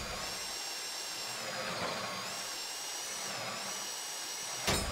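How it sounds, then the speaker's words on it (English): A drill whines steadily in a bank vault during a heist video game, a constant high-pitched mechanical drone with a faint wavering pitch and a brief clunk near the end, with no talk over it. "Your drill's getting red real quick."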